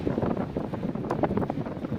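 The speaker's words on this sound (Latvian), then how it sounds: "Nu, vējš šodien pūš ārprāts vienkārši" Strong wind on a Baltic beach at Garciems buffets the microphone in a steady, loud rush with no talk over it.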